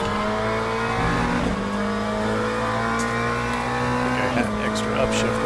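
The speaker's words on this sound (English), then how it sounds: "Extra upshift there that I should have had." A GT3 race car engine in the Le Mans Ultimate sim at Sebring holds a steady high drone, then dips and climbs again as it upshifts. Loud and continuous, with a voice talking over it.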